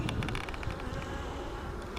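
Honey bees buzz steadily and loudly at close range around hive frames during an April inspection, a dense continuous drone with scattered sharper ticks and bumps and no talking.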